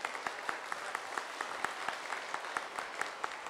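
Faint applause from a school audience at a career-sharing talk: thin, evenly spaced individual claps over a soft wash of clapping, quiet throughout.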